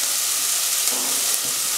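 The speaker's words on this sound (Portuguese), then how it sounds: "É fritar mesmo a cebola." Onion and garlic frying in a pan for a Brazilian lunch of beans and rice, a dense, steady sizzle and hiss close up, continuous and fairly loud with no talking.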